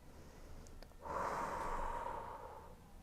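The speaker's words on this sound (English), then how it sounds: "Let's take one more breath." A single deep breath taken during a yoga quad stretch in a beginners splits flow class, a soft airy rush that swells after a moment of quiet and slowly fades, close and alone.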